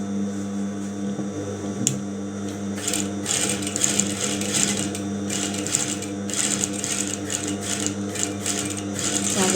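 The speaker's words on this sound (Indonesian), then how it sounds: "Kita tindas tepat pada jahitan yang pertama." A sewing machine runs steadily, topstitching along the first seam of a two-strip garment placket, with an even, close mechanical whir that continues for the whole stretch without talk.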